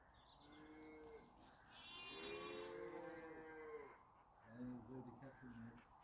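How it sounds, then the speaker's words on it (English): Cattle moo repeatedly in a rural garden setting, long drawn-out lowing calls rising and falling at moderate distance, with sheep faintly among them and someone speaking softly over the animals. "With all the cattle crying in the background and the sheep."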